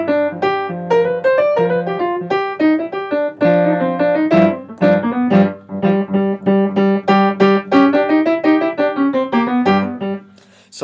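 A jazz solo over a tune built on an altered major pentatonic scale, played as a quick, steady stream of bright melodic notes over a low sustained accompaniment, loud and continuous for about ten seconds with no talking.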